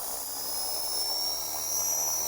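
A Walkra V450 RC model's electric motor on a 60 A speed controller whines at high throttle, a thin steady tone that climbs slightly in pitch over a low hiss, fairly quiet and alone.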